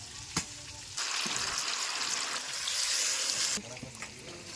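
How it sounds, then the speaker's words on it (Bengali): Fish frying in hot oil gives a loud, steady hiss and sizzle that swells after a quiet start and dies back near the end, with a few faint clinks around it. "অনেক মাছ তো একে একে এভাবে ভেজে নেব, ভেজে তুলে নেব।"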